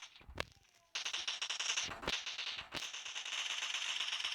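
Rapid automatic gunfire on the Livik map of PUBG Mobile, with a couple of sharp single shots and then long dense bursts of fire, loud and close.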